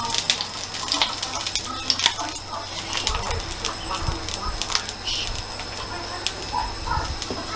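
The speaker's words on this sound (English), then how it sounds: "It's already sizzling." Steady crackling sizzle of steak frying in a hot pan, with scattered sharp pops and spits throughout, close and continuous.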